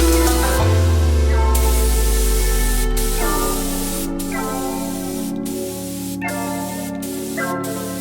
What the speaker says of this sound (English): we're going to do a couple very light coats. We're shooting at about 23 to 25 psi.